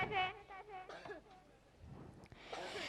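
A father coughs in a comic sketch staged at an Islamic school gathering: a few harsh, close coughs with throat clearing early on, followed by quieter rustle and another burst of noise near the end.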